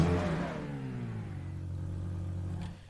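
A car engine in GTA 5 revs up with a rising whine, then settles into a steady droning hum before cutting off near the end, close and alone.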